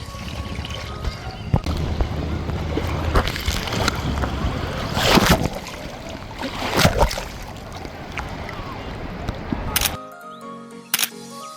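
Sea waves at Kuakata beach in Bangladesh make a steady, broad roar mixed with wind for about ten seconds before cutting off to near quiet.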